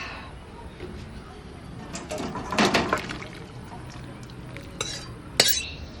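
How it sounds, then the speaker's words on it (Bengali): Cooked pointed gourd and prawn curry is spooned from a pan into a bowl, with wet stirring and scraping, a few metal clinks against the dishes, and a talking voice over the kitchen sounds. "তুলে নিয়ে এবার আমি এই পাত্রে ঢেলে নেব।"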